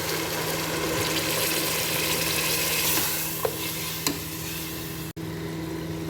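Meat that has been well browned in a pot sizzles and hisses steadily as water is added, with a soft stirring texture and a couple of brief clinks near the end.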